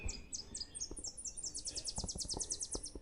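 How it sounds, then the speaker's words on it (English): Birds chirp and sing in a bright, repeated series of high trills, fairly close, on the paved Montour Trail in May, with soft footsteps or rustling beneath. "Oh, listen to those birds."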